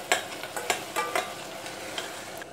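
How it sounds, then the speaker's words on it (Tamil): Ginger garlic paste frying in a pan after onions for mutton sukka, a soft close sizzle broken by several sharp scraping stirs of a spoon against the pan, with no talking. "இஞ்சி பூண்டு பேஸ்ட் ஆட் பண்ணிக்கிறேன்"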